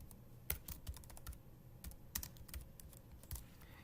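Quick, quiet typing on a computer keyboard in an IDE, a few scattered keystroke clicks over a few seconds with no talking.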